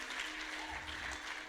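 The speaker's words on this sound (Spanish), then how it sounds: "Someone give a round of applause to our Lord." A church congregation applauding during a Spanish-English bilingual sermon, a brief burst of dense, even clapping that sounds moderately distant, with no talking over it.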